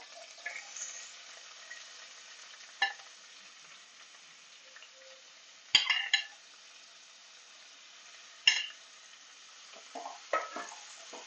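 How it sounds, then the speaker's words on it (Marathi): Onions fry in a pan for a spicy Koli-style chicken misal, with a soft, steady sizzle throughout and a few sharp clatters and scrapes from stirring. "कांदा छान आपल्याला मऊ होईपर्यंत परतून घ्यायचा म्हणजे सोनेरी रंगावर आणायचा आहे"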